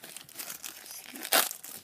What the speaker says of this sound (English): the wrapper opens up really nicely